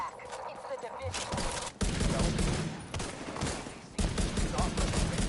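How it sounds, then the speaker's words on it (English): Video game gunfire at a loading area on Broad Street under attack, with dense bursts of automatic shots arriving in waves and brief gaps between them, while a voice talks under the shooting. "I hear gunfire"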